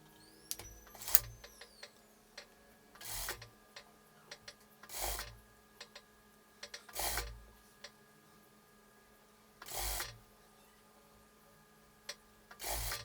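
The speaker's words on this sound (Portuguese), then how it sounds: "eu rebato uma costura lá na máquina reta" A straight-stitch sewing machine hems a sleeve opening in short bursts of rapid stitching, about six runs separated by quiet pauses, with faint handling and clicks in between.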